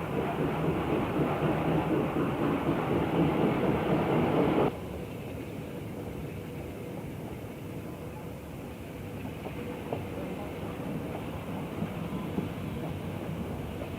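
A Class E4A Camelback 0-8-0 steam locomotive, number 1412, rumbles steadily in a long railway recording. The sound is loud at first, then drops abruptly to a quieter, continuous background roar.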